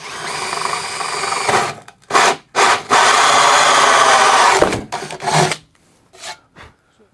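Power drill boring a hole through a wooden panel for a gearbox input shaft, grinding in several short bursts with brief pauses, close and loud, ending in quieter handling noises.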